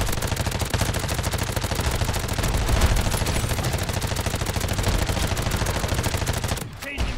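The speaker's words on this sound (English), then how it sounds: "That turret's putting in work, you know." Turret in Call of Duty MWZ zombies mode firing a rapid, steady stream of shots at zombies, loud and continuous for several seconds before a brief break at the end.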